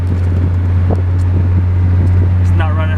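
A Honda Del Sol with a transmission repair rides over a bumpy road, its engine giving a loud, constant low drone inside the cabin with wind rumble, and a voice talks over it.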